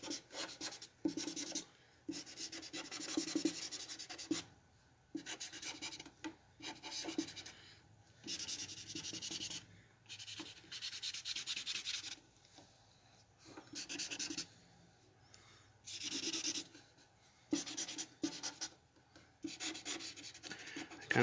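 A blueberry-scented Mr. Sketch marker squeaks and rubs across paper in repeated short bursts of strokes, close and fairly quiet, separated by brief pauses.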